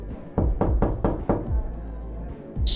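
Knocking on a door in a period drama, five firm evenly spaced raps up close, then a pause and a single further thud.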